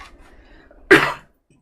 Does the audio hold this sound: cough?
yes